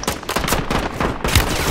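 Gunfire in Call of Duty on Rebirth Island, a sniper firing among other weapons: a fast, dense run of sharp shots heard up close with no break over the short stretch.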